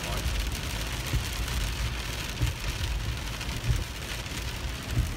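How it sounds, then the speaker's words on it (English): Dense, steady rain patters hard on a surface, a continuous close hiss with occasional heavier drops. "It's not raining that hard."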